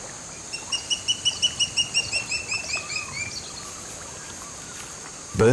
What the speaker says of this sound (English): Birds trigger the alarm.